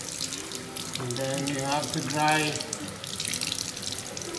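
Tap water runs into a sink for hand washing in a washroom, a steady splashing flow that swells midway and continues under brief conversational speech.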